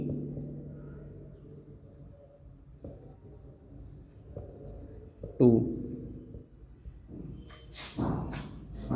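A teacher writes a number in words on a board in a maths lesson, with scratchy marker strokes under intermittent classroom speech, followed by a couple of sharper taps near the end.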